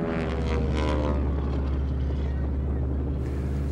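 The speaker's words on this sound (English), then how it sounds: "It's got a Pratt & Whitney engine, R1340, 600 horse, and a Hamilton propeller on it." A Harvard airplane's Pratt & Whitney R1340 600-horsepower radial engine with Hamilton propeller drones steadily and loudly throughout an aerobatic routine, a deep rumbling hum with a slight rise and fall as it flies close by.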